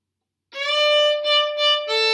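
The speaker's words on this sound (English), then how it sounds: "Let me play the whole first line of variation 1." A fiddle plays the opening line of a Cripple Creek variation, beginning with a slide into bright sustained bowed notes, a few separate phrases over about a second and a half, close and clear with no talking.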